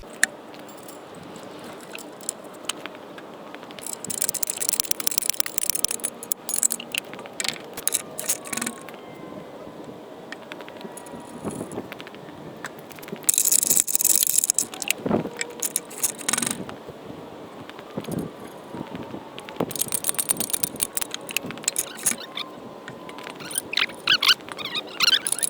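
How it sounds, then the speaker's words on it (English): A torque converter is bolted to the flex plate of a 1971 Plymouth Duster's Mopar 360 engine, with scattered metallic clinks, ratchet clicks and tool rattles coming in irregular bursts, close by. "All right, let's get those bolted on."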